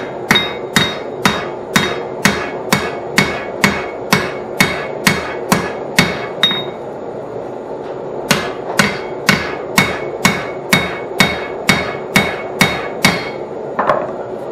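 Hammer blows tighten a rivet on a pair of hand-forged blacksmith tongs, sharp metallic strikes falling in a steady rhythm of about two per second, with a short pause midway, close and loud with no talk.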